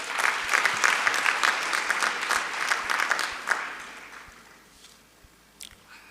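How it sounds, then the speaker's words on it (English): An audience claps at a senior citizens' parliament in Gauteng: a round of applause that is strong at first, then thins out and fades to a few scattered claps. "Another round of applause."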